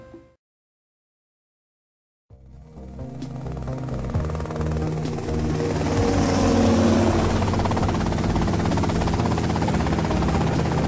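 A helicopter in the video game GTA Vice City starts up after a brief silence, its rotor thump and engine whine building to a loud, steady drone that continues to the end.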